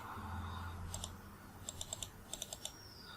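Faint, close computer mouse clicks arrive in small clusters of quick taps, heard against a quiet, low background hum.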